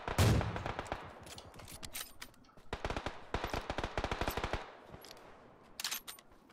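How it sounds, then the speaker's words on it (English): Gunfire in a video game: rapid bursts of automatic shots and single cracks come in clusters over several seconds, loud and close, with short pauses between volleys. "I'm gonna shoot him."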